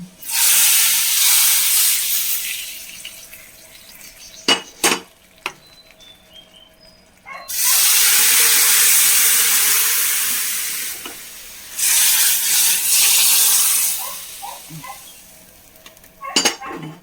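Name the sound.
hot tempering poured into sambar curry, sizzling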